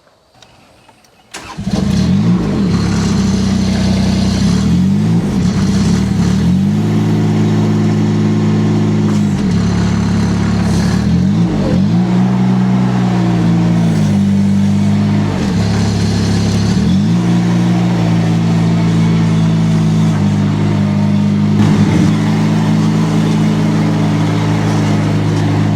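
A compact loader's engine starts and then runs loud and close for a long stretch, its pitch swelling and dipping in repeated revs as the machine works.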